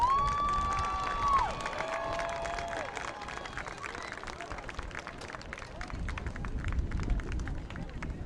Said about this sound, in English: Once again, one more big round of applause